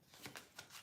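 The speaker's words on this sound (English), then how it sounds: "I'm just gonna cut the deck and take 6 cards" A tarot deck is cut by hand, giving a few soft, quick riffles and slides of cards. The sound is very faint and close, and no one talks.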